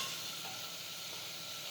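Spices stirred into a pan for a ridge gourd dish give a steady faint hissing sizzle, brief and even, with no talk.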